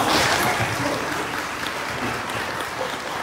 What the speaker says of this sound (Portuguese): Uma salva de palmas com Jesus, irmão.